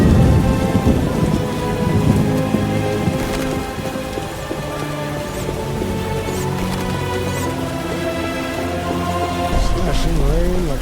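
Rain and thunder sound in The Witcher Enhanced Edition video game: a steady hiss of downpour with low rolling rumbles, set under music and a voice.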